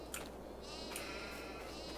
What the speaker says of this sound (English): What a wonderful looking bunch of sheeps